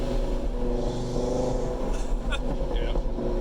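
An Audi RS3 Stage 3 tuned past 700 horsepower drones loudly on the road, its exhaust roaring steadily with a few sharp cracks, while people talk over it.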